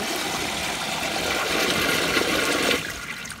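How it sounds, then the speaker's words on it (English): A Kohler Stanwell urinal with a flushometer flushes in a loud, steady rush of water for nearly three seconds, then drops off abruptly into quieter trickling and refilling. "this is a toilet flushometer on a urinal"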